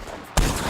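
A single sharp rifle shot in a video game bursts in after a quieter stretch, loud and close, with a lingering crackling tail.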